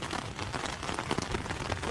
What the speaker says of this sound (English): if this rain doesn't stop, I could be in for a very long night